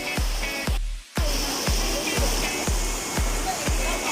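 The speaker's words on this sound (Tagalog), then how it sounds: "Tanawa ang kusog sa Uwan." Heavy rain pours as a loud, steady broadband hiss, with regular dull low thumps underneath.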